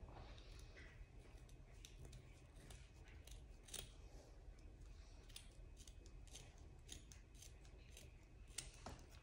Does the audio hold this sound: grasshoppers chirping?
no